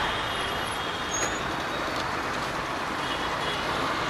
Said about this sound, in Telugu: చూడండి ఎట్లా ఉంది మొత్తం ట్రాఫిక్ జామ్ జామ్ ఉంది.